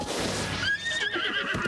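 A horse in Zelda Breath of the Wild gives one clear, loud whinny that rises and then trails off over a bit more than a second, with no talk over it.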